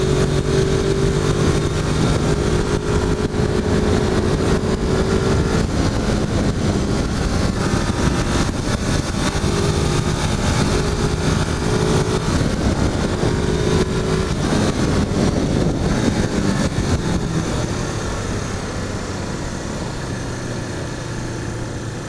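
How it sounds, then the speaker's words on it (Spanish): A Suzuki GS500 motorcycle riding uphill with a steady, relaxed engine drone, loud and close with wind rush, the tone holding even before easing slightly near the end. "La moto sube muy relajada, como nos pueden ver."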